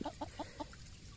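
A chicken clucks in a small ceramic boat on a creek, four short close clucks in quick, even rhythm before the sound trails off into quiet background.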